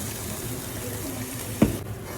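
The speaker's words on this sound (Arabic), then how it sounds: "والحين نصب ماي الدياي" Chicken stock is poured over maqluba ingredients in a cooking pot, giving a continuous soft liquid pour and splash, with a brief clunk near the end.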